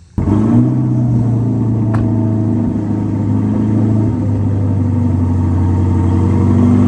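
A 2022 Corvette C8 is driven slowly into a garage, its engine giving a steady, close, low rumble throughout with a slight rise in revs near the end, alone with no talk.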